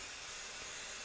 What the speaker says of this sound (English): So when I'm spraying about 12 inches away